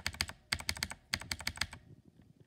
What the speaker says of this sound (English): if you want me to show you how to do a poppy switch,